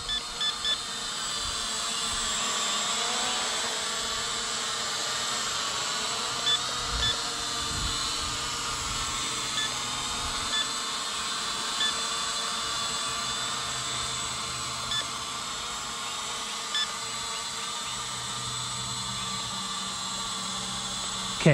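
A cheap RC drone lifts off and flies, its small motors giving a steady, continuous high-pitched whine that stays fairly constant with only slight dips, close and unbroken for the whole stretch.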